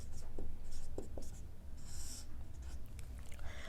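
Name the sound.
writing on a board during a geography lesson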